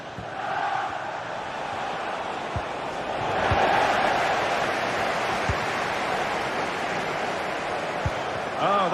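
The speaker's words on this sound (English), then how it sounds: "The crowd certainly think so. Just listen to them." A stadium crowd in a football video game roars continuously as a broad, distant wash of cheering that swells slightly midway, with a few faint thuds beneath it.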